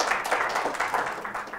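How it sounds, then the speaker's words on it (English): Brief, fairly quiet clapping from a lecture audience, a loose patter of hands that holds steady for under two seconds. "I'll tell Esther you clap"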